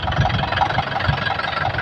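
A tractor engine idles steadily, a continuous rumbling drone with a faint knocking texture that holds at an even, fairly close level throughout, with no voices.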